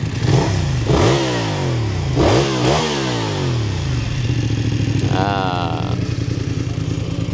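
A VOGE motorcycle with a 270-degree crank engine revs up in strong rising and falling bursts, then settles into a steady lumpy idle with a brief higher-pitched blip near the end, close and loud with no talking.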